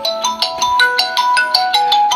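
A mobile phone rings loud and close with a bright, repeating electronic melody of quick notes that carries on for the whole stretch, with no voices over it.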